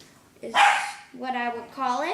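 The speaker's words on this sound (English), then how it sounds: "that was just my dog" A pet dog indoors in a home kitchen gives a few sharp barks and yips in quick succession, close and loud, with a person speaking briefly just before.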